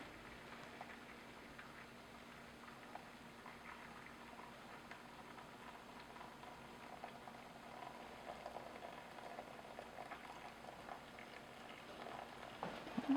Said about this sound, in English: So gently pour that in.